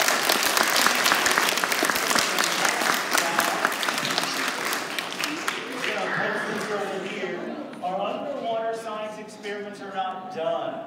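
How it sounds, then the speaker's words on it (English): An audience at a science demonstration claps loudly for several seconds, the dense applause thinning out as a person starts talking over it and then carries on speaking alone. "Give those two a hand of applause."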